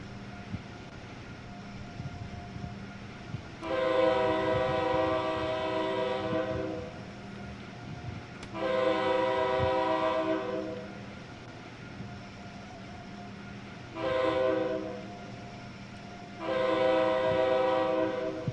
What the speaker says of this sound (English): I just always honk at that crossing.